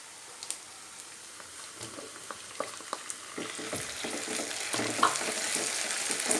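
Chopped tomatoes drop into onions sautéing in a pan for vatha kuzhambu, soft taps and scrapes giving way to a rising, steady sizzle that grows louder as the frying settles in.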